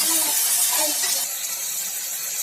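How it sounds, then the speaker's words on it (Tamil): Brinjal slices frying in hot oil in a pan, giving a steady, close sizzling hiss that softens slightly partway through, with no voices. "ஒரு ரெண்டு நிமிஷம் எண்ணெயிலே இது வதங்கட்டும்"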